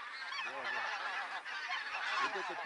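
Many geese honk loudly and continuously during a goose hunt in Belarus, a dense overlapping chorus of calls that stays close and strong throughout.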